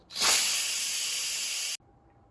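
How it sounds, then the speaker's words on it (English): An Instant Pot's quick steam release gives a loud, steady burst of hissing for over a second, then cuts off abruptly into near silence. "so let's quick release the steam."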